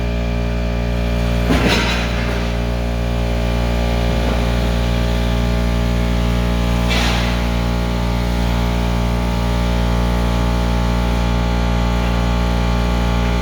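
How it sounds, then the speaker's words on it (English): Compressor on a Formech Midi vacuum former pulling plastic down over an Iron Man mask mold, a loud constant mechanical hum running steadily throughout, with a couple of brief rattling bursts. "You can hear the compressor going."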